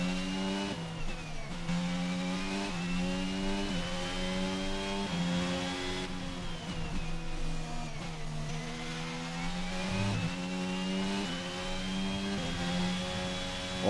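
Formula 1 car engine in the F1 2022 racing game, a high-pitched revving whine that rises and falls through gear changes, continuous and loud with no talking.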